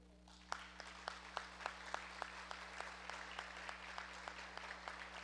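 Moderate applause at a book presentation, a soft background of many hands clapping with regular individual claps standing out, over a steady low hum from the room's sound system.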